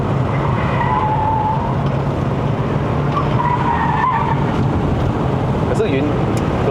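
A 2009 Audi Q5 2.0 TFSI Quattro corners hard on a mountain road, its tires squealing in drawn-out bursts over a steady engine drone while people talk excitedly inside the car.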